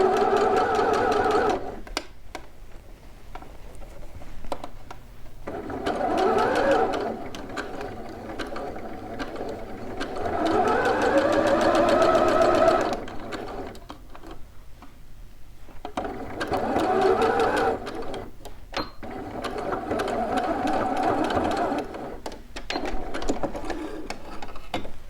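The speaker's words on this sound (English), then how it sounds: "I'm going to drop down my needle, back stitch. And then we're off." Sewing machine stitching the inner leg seam of a pair of shorts, running in several sustained whirring bursts separated by short pauses, close and clear with no talk.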